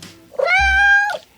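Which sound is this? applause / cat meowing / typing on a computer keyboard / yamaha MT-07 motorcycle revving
cat meowing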